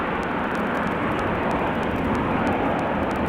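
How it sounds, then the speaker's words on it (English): A Boeing 737 airliner taxis at Amsterdam Schiphol, a steady, moderately distant engine rumble and hiss with faint regular ticks above it, no voices. "737 also on the move."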